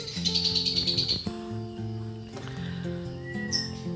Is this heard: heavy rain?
no